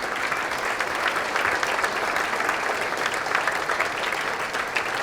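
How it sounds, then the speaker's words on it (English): A banquet audience applauds the birding competition teams at an awards brunch, with sustained, even clapping from a crowd that holds steady and fairly loud throughout, no speech over it. "get a round of applause again for all of the teams"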